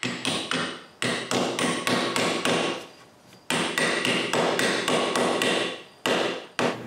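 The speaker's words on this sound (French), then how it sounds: "Sur le montant, il faut mettre ce morceau dans la mortaise." A wooden piece is tapped into a mortise on a woodworking upright with rapid, sharp hammer blows in several fast bursts separated by short pauses, loud and close with no voices.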